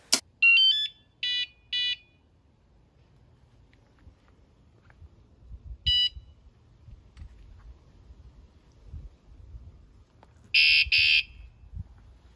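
A bike lock alarm gives several loud, shrill electronic beep bursts, a cluster at the start, a single chirp in the middle and a longer double blast near the end, with quiet low rumbling between them.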